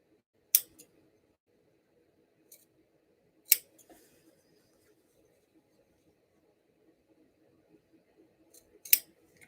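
Scissors snipping into fabric up to a seam corner while sewing a bucket bag, three or four sharp, isolated close-up cuts separated by quiet pauses.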